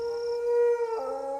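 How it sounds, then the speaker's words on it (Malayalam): A dog howls in one long, loud, sustained wail whose pitch drops partway through; no one speaks over it. "പട്ടി"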